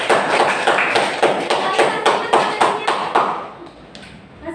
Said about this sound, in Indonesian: Tepuk tangan pada Aida.